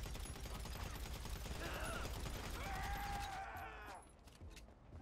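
Rapid bursts of gunfire in a gang shootout with police in GTA 5, a fusillade of shots under game sound effects and mechanical clatter, fading out near the end.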